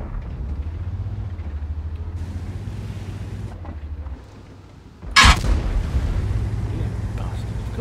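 A World of Tanks tank cannon fires a single loud, sharp blast partway through, with a low engine rumble droning underneath before and after the shot.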